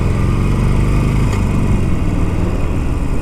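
Harley-Davidson Forty-Eight with a 1200cc V-twin engine, a 2017 model, running close by in Chelsea, giving a steady, loud rumbling drone that holds throughout without pauses or talk.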